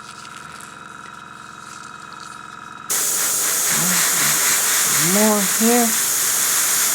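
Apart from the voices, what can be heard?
airbrush spraying paint on a miniature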